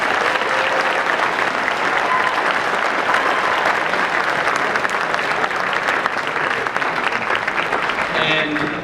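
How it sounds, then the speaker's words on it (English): A room full of people claps steadily for several seconds, dense and sustained applause that fades as a voice begins at the end. "Let's give her a big round of applause."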